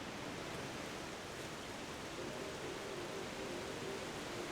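Steady rain hisses evenly throughout in The Legend of Zelda: Twilight Princess HD, a dense, unbroken wash of falling water with a faint tonal hum beneath and no voices.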